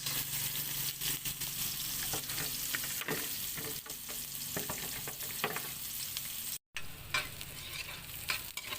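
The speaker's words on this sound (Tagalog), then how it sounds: "maggisa tayo ng luya." Garlic and ginger sautéing in oil for salmon-head sinigang, a quiet steady sizzle with scattered soft clicks and scrapes of stirring, close by and without speech.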